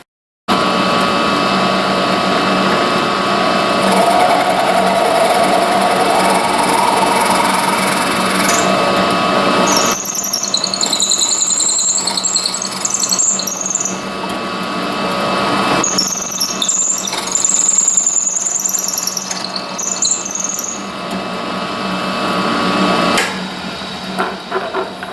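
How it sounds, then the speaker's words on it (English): A 3/8 inch hole reamed for brass or bronze sleeves in a wooden hand plane, a continuous loud power-tool whine with high squealing bursts partway through, running alone without speech. "So now I'm going to ream it out to 3/8"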